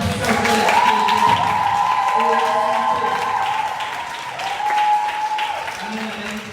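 Church congregation applauding during worship, sustained crowd clapping over a singing or speaking voice, fairly loud and continuous before tapering slightly.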